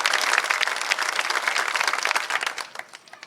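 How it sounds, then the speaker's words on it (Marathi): Loud audience applause at a political rally, crowd clapping for the women seated there, a dense continuous roar of hands that thins and fades toward the end. "त्यांच्यासाठी एकदा जोरदार टाळ्या वाजवा"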